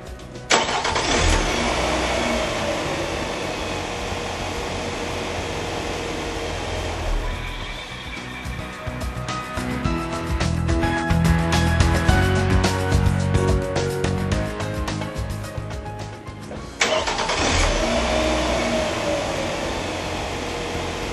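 A Nissan car engine cranks and catches, then idles steadily at a mid-pitched rumble. After a pause, a second start and idle follows, loud and close, with no voices.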